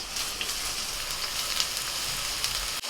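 Beans and carrots lightly frying in a pan for homemade chowmein, giving a steady, close sizzle with faint crackles throughout and no voices.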